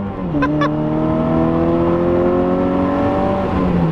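A loud Mazda Miata engine swapped to a 160 wheel-horsepower Ecotec revs hard, pitch climbing and holding steady as it pulls away, close by, with no talking.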